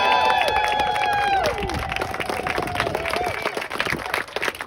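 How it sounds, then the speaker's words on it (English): Rally crowd at an outdoor landfill-permit protest in Concord, New Hampshire, applauding and cheering a speaker, with steady clapping throughout and a voice speaking over it at the start. "Another big round of applause for Adam, please"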